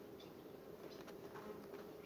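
Honey bees buzzing around an open hive during a sunflower honey flow, where the beekeeper works the frames with vinegar water, a soft steady drone of many insects, faint and continuous with no talk.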